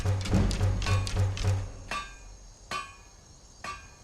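Crafting shock bolts at a smithing station in Skyrim, a quick series of about six ringing metallic hammer strikes followed by three slower, spaced clanks, each with a short metallic ring.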